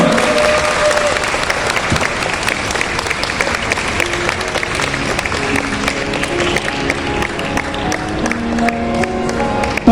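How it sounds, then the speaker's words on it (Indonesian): A large standing crowd at a Vesak celebration in Surabaya applauds the venerable Bhante Dhira Punyung, with loud, dense, sustained clapping filling the hall for the whole stretch. "kita tepuk tangan yang mulia untuk Bante Dira Punyung"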